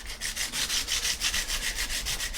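Abrasive rubbed back and forth on a Harley motorcycle part, a steady rhythmic scrubbing rasp with fast even strokes, close and continuous, no voices.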